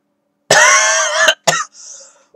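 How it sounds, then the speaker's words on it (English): A harsh, drawn-out cough up close, followed by a short second cough and a faint wheezy trailing breath, with silence around it. "I have a cough."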